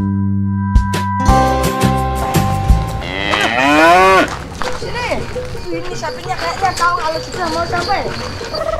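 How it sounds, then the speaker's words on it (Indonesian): Cattle low repeatedly nearby, with several long drawn-out moos rising and falling amid outdoor commotion and people talking throughout at a sacrificial cow slaughter event. "Ada suara sapi itu."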